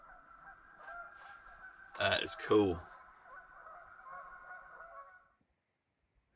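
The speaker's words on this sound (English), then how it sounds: "So it's sounding like those geese may just come over here and join me." Geese honk repeatedly at a distance at a campsite near water, a chorus of nasal calls running through the clip, with a person speaking briefly near the middle.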